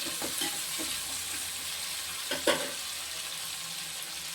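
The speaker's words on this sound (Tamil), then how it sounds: "கொஞ்ச நேரம் வதங்கும் தக்காளி நல்லா வெந்துக்கிட்டு இருக்கு" Chopped tomatoes sautéing in a pan for a Tamil fish curry, a soft steady sizzle with a few light scraping stirs and one sharper clatter near the end, close and fairly quiet, with no talking.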